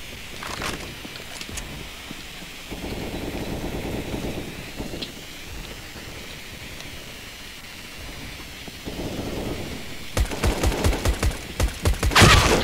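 Gunfire from the video game Counter-Strike: Global Offensive, with bursts of rapid shots near the start and a loud volley of sharp repeated cracks toward the end over a steady game background.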